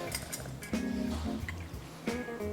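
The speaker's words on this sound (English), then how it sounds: "Pour our little mixture into the glass." Cocktail mixture poured into a glass at a bar, a short liquid trickle with a light clink of glassware, close and fairly quiet, with no talking.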